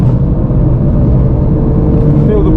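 A Porsche 997 Carrera GTS accelerating on a race track, its engine a loud, steady drone that builds slightly as speed rises.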